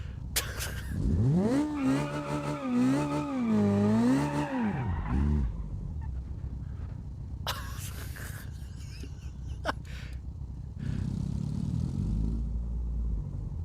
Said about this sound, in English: We're gonna see if this thing will three-wheel.